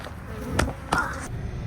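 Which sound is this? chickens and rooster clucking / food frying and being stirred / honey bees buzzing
honey bees buzzing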